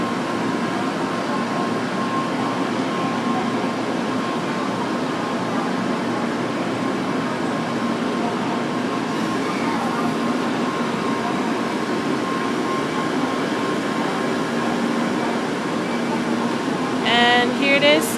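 Shinkansen bullet train departing a station bound for Hiroshima, a steady broad rushing rumble with a faint hum, continuous and fairly even in loudness, with a brief chime-like sound near the end.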